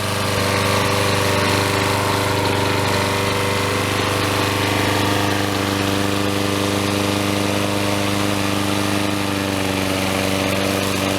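A Troy Bilt self-propelled lawn mower with a 6.75HP Briggs & Stratton engine runs steadily at close range, a loud continuous hum with a strong low drone that holds unchanged throughout, with no talking.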